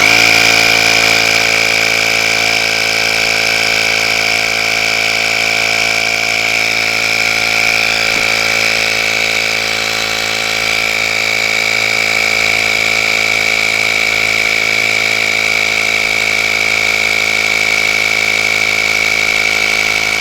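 A small AliExpress tire inflator pumping up a motorcycle tire, a loud, steady motor drone with a strong whine that holds level for the whole stretch, close to the microphone.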